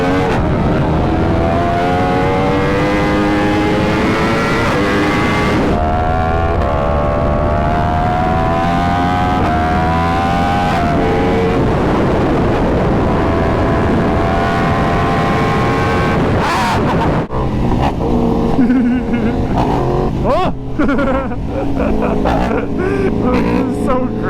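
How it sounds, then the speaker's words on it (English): A motorcycle engine drones loudly throughout while burning rubber, its exhaust pitch rising and falling as it revs and shifts through gears, with wind noise close by. "You guys listen to the exhaust."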